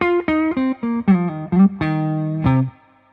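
A short electric guitar phrase of bent, sliding single notes with slight grit and echo, ending on a sustained note that fades out.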